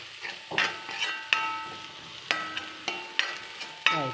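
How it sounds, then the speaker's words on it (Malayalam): Onion with turmeric and chili powder sautéing in a pan: a steady soft sizzle under repeated sharp scrapes and knocks of a spoon against the metal, no voices. "സവാള നന്നായിട്ട് വഴറ്റി വന്നതിന് ശേഷം കുറച്ച് മഞ്ഞൾപ്പൊടി, കുറച്ച് മുളക് പൊടി ഒക്കെ ചേർത്ത് നന്നായിട്ട് വഴറ്റുക"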